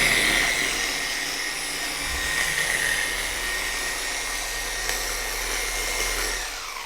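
Car polishing machine spreading compound on the paint of a Mazda MX-5 at slow speed: a steady, close motor whine with a low hum, holding even and continuous throughout.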